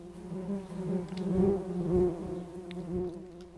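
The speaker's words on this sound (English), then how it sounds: "I see a whole bunch of wasps in there." Wasps buzzing inside a Minecraft hive, a steady droning hum that swells and fades in waves over a few seconds, close and continuous with no talking.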